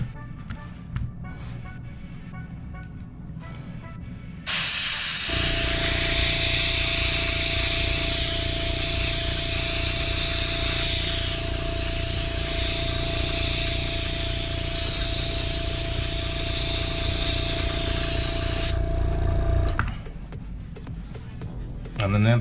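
An airbrush sprays paint onto handmade leather sandals as a long, steady hiss with a faint compressor hum beneath. It runs continuously for about fifteen seconds and then cuts off, with quieter workshop sounds before and after.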